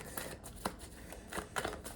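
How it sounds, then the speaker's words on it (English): A deck of tarot cards is shuffled by hand in a quiet room, giving several soft, irregular riffling bursts and papery flicks, close and fairly faint, with no one speaking. "I know I shuffled these cards, but I feel like I have to shuffle them again."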